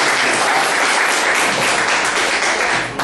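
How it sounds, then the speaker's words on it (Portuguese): Audience applause from a group at a workshop, a dense burst of many hands clapping close and loud for about three seconds before tapering off, with no voices over it. "Salve de palmas aí."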